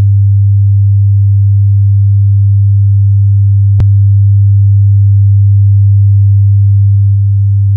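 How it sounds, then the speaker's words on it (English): Steady 100 Hz sine test tone played loudly through Electro-Voice Everse speakers, a continuous low hum holding the whole time, marked by one brief click midway. "And I want you to hear the difference of what that 100 hertz tone sounds like coming from the two speakers."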